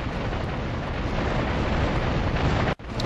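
A loud, sustained rumbling roar of a bomb explosion in Grand Theft Auto III, dense broadband noise holding steady for nearly three seconds, then cutting off abruptly.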